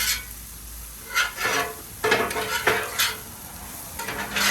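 Meat for jambalaya pasta is stirred and scraped on a hot griddle, steady sizzling beneath repeated metal spatula scrapes that come in close, uneven bursts.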